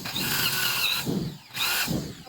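Power drill boring a hole in a motorcycle part, enlarging it oversize for a 12 mm bolt; two loud bursts of whining drilling close by, separated by a brief pause.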